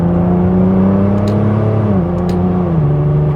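A turbocharged BMW E36 with a ZF 8HP automatic accelerates from inside the cabin, its engine drone rising in steady pitch and then dropping at the gear shifts, with a faint turbo whistle over a loud, constant hum.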